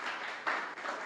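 A church congregation applauds together in worship, a steady wash of many hands clapping at a moderate level throughout the short moment.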